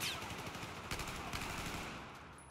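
Rapid bursts of automatic gunfire crackle over a dense, continuous action-game soundscape in Battlefield 4's story mode, loud and close throughout.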